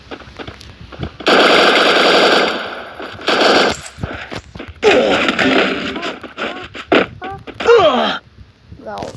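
Video game machine gun fire in a desert death-match mode, loud close bursts of rapid shots in several separate strings with short pauses, a voice talking between them.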